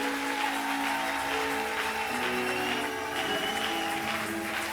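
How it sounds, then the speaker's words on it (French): A church congregation at a Sunday service claps together in a steady, dense wash of applause, with sustained musical tones ringing underneath throughout. "Applaudis ton Dieu là où tu es."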